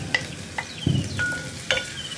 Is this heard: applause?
no